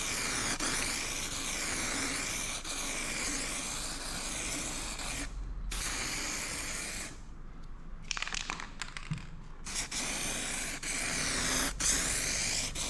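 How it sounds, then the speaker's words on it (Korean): Aerosol spray can laying down a final clear coat on a car bumper, a steady close hiss running in long passes with brief pauses and short bursts between strokes. "마지막 투명은 좀 더 조금 눌러서 뿌려 보도록 할 건데요"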